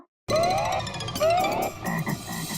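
A frog croaks loudly and close by in two rising, creaky calls, followed by a rougher burst of croaking.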